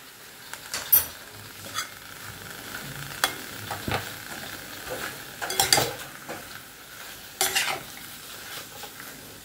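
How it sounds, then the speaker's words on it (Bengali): Food being stirred and mixed with ghee in a pan, with repeated scraping strokes, soft clatters and a light background sizzle, close and alone with no talk. "দেখো সবকিছু একসঙ্গে মিক্স করে নিচ্ছি"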